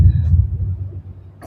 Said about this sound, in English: it's thunder here in Australia.